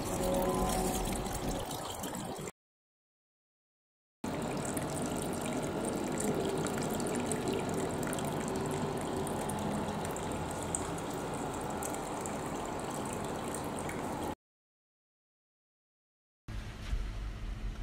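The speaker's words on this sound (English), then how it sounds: "You can now fill your tank with water and turn on your pump." Water pours steadily into a home aquaponics fish tank while a pump runs, making a continuous trickling splash in bursts separated by two silent gaps.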